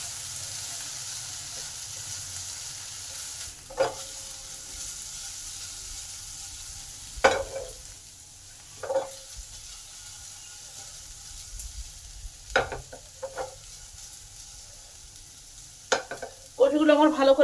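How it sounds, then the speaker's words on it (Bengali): Taro pieces fry in hot oil with salt, turmeric and chili powder, giving a steady close sizzle broken by several sharp scrapes and clacks of stirring. "কচুগুলো আমার ভালো করে ভাজা হয়ে এসেছে"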